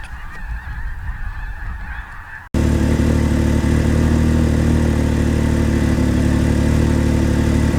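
A loud, dense chorus of snow geese honking continuously during a hunt, many birds calling at once from close by, with a quieter stretch of honking at the start.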